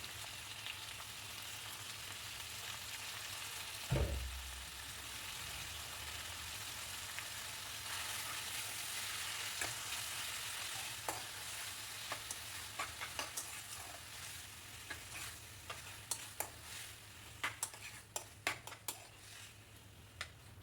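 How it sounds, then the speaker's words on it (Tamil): Squid stirred with onion and garlic in a pan sizzles softly and steadily, with a brief low knock early on and scattered light scrapes and clinks of a spoon against the pan later, no voices. "கனவா சேர்த்து நல்லா இந்த மாதிரி வதக்கி விட்டுட்டு"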